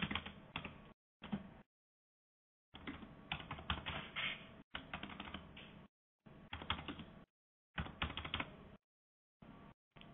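Quick bursts of keystrokes on a computer keyboard as a configure terminal command is entered during a cloud gateway setup, clicking in several close, separate runs with short silent gaps and no talking.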